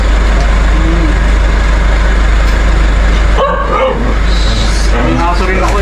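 A dog barks and yips at a visitor arriving at a home, heard in short bursts beneath loud, steady background noise while people talk nearby.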